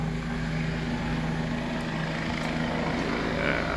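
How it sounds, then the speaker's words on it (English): Helicopter passing over a suburban neighborhood after 1 am, a steady low droning rotor hum that holds at a constant level throughout, with faint distant background noise and no voices. "I can't remember the last time I heard a helicopter flying over here like this."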